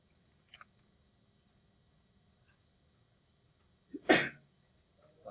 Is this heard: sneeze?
yes